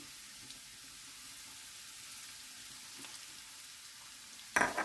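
A steady, quiet sizzle of carrots and flour frying in a pan, ending with a sudden louder scrape or stir.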